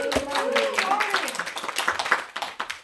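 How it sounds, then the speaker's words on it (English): Audience at a women's church retreat applauding a volunteer named Marty, scattered clapping building briefly under a speaking voice and trailing off into a few separate claps. "Give Marty a round of applause."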